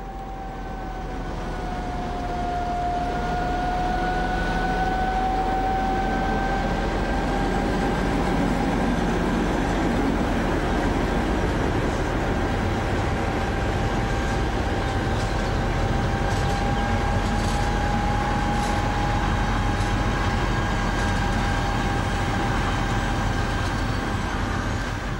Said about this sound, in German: Es ist 220/295 der Leipziger Eisenbahngesellschaft, die hier einen Schotterzug zieht.